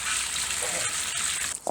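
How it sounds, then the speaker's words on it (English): Water running into a tub for gold panning at a kitchen sink, a steady hissing gush close by for most of the moment before cutting off near the end. "So we'll just get some water in the tub so I can pan into it."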